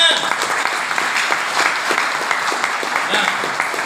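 Energetic audience applause at a company member training session, bright and steady clapping with a few individual claps standing out, carrying on without pause.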